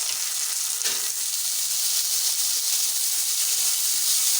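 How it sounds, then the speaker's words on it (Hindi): Onions stir-frying in a pan with salt, chili sauce and soy sauce, a loud, continuous bright sizzle and hiss up close, with a brief stir near the start and no talking. "इनको 2 मिनट के लिए स्टिर फ्राई कर लेंगे।"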